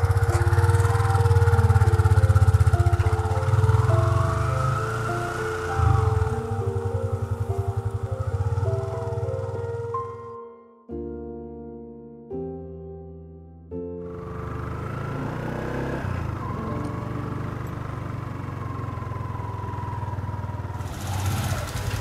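A motorcycle engine revs and idles nearby, then rides off, its note rising and falling before dropping away briefly and returning as a steady mid-pitched drone of engine noise.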